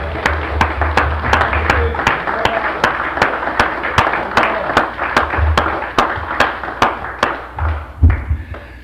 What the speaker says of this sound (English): So let's give Walter a round of applause for 15 years.